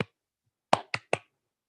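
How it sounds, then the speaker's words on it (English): Three short, sharp hand claps close by, quickly following one another after a single earlier clap, in an otherwise silent room. "Clapped your hands together."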